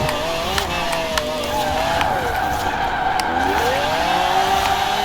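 A 1995 BMW 850CSI tuned to about 1400 horsepower, rear-wheel drive, drifting in fifth gear in Forza Horizon 4: a loud, sustained engine drone with shifting tire squeal as the car slides, steady and close.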